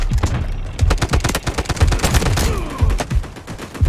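Rapid bursts of automatic gunfire from the Delta Force video game, dense overlapping shots and booms that continue steadily throughout at close range, with no talking.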